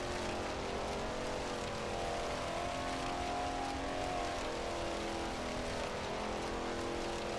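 Race car engine in a 1939 Grand Prix Tripoli race in Assetto Corsa, a steady droning roar with rough, uneven misfiring texture running continuously and fairly loud with no speech.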